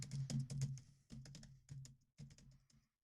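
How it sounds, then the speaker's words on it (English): Fast keystrokes on a computer keyboard sitting on a hollow plastic table, arriving in four clattering bursts separated by short pauses, close and fairly loud, with no talking. "This is sound like I'm pounding on the keyboard."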